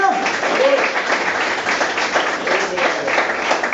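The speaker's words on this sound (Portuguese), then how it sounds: "Palmas ao Senhor Jesus!" A church congregation applauding during a sermon, a dense continuous wash of clapping filling the room for several seconds, with speech mixed in underneath.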